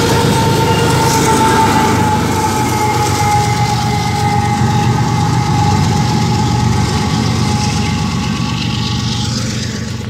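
A BNSF freight train led by an ES44AC diesel locomotive passes close by, its engine droning loud and steady with rail noise and a faint tonal whine, easing off slightly at the end.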